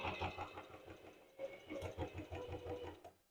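A sewing machine runs a short reverse straight stitch over a bra strap attached to a lace underwired bra, its steady mid-speed chatter pausing briefly near the middle before resuming, close and alone.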